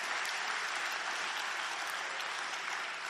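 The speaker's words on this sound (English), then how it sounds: "This is the only room that will cheer for me not stealing." A room full of people at a sobriety recovery talk in Las Vegas cheering and applauding, a dense, steady wash of clapping that stays loud and even throughout, no one speaking over it.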